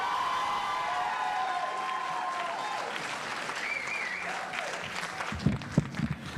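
Clapping from a candidates' night audience at a District 3 congressional forum continues after a speech, mixed with scattered voices and thinning out before a single person starts talking near the end.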